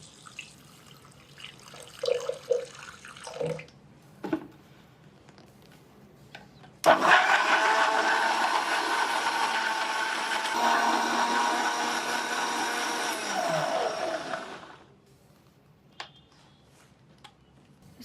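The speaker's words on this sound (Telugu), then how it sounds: "ఈ క్యారెట్ ముక్కలు తీసుకొని దీంట్లో మనం వాటర్ యాడ్ చేసుకొని జ్యూస్ చేసుకుందాము" A blender chops carrot pieces with water in one loud, continuous whirring run of about eight seconds, which starts abruptly and cuts off. A few faint clicks and knocks come before it.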